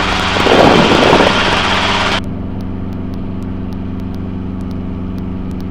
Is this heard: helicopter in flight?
yes